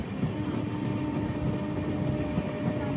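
The Home Calling express train passes near Nellore with a low, continuous rail rumble and a thin wheel squeal over it. The sound is steady and moderately faint, with no voices.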